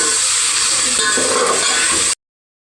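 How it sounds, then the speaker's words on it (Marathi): Mixed vegetables stir-fried in a pan for a spiced mixed-vegetable rice dish, a steady loud sizzle with scraping stir strokes running continuously before cutting off abruptly. "या सगळ्या भाज्या आता मिक्स करून भाजून घ्यायच्या व्यवस्थित"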